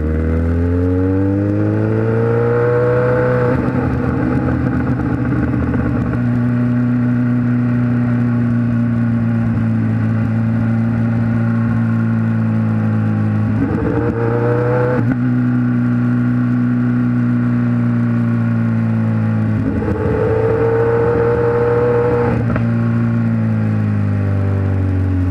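A Kawasaki Z1000 motorcycle with a 4-into-1 exhaust being ridden, a loud, steady droning engine tone with several rising revs as it accelerates between gear changes, close and continuous.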